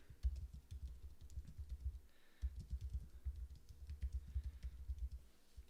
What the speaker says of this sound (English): you can come down here and type a message to your